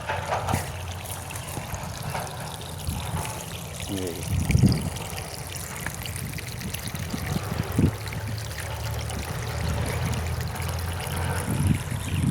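Water gushes steadily from a running tubewell across farm fields, a continuous broadband splashing flow that stays close and fairly loud throughout, with brief low thumps and some voice-like sounds mixed in.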